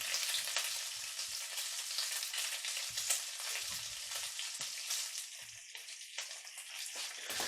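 Strips of bacon frying in a pan turned up fairly high for egg fried rice, a steady close crackling sizzle with scattered pops and spits running throughout, no voices.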